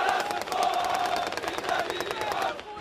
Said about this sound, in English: The crowd in the town center swells, the cheers of a people finally free, choking on emotions.